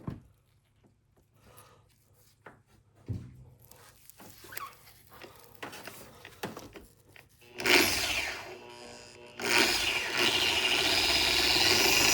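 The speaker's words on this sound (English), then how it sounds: "at this point, I'm just gonna polish it a little bit." A loud power polisher buffs an old Toyota headlight lens, running steadily from about eight seconds on after quieter handling and clicks.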